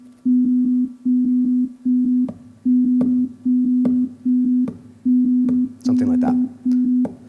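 A steady, evenly spaced series of short, identical beeping tones at a low-mid pitch, repeating in a regular non-syncopated rhythm at 2.5 hertz, with faint clicks and noise over it.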